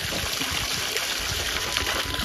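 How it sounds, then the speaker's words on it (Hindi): Mountain drinking water flows from a pipe in a steady, close, unbroken rush with no pauses and no other sounds over it. "तो वैसे ये पीने का पानी हमारा ऐसे आता है पहाड़ों से।"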